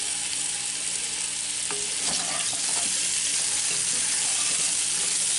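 Garlic cloves sizzle loudly and steadily in hot fat in a Dutch oven with rabbit, a dense close frying hiss with a few scraping clinks of a utensil stirring them.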